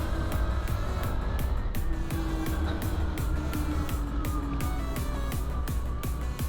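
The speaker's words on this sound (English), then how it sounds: "Lots of lorries." Lorry engines rumble loudly and continuously on a road from China to Laos, with regular rhythmic thumps and a rising whine, as if riding along among passing trucks.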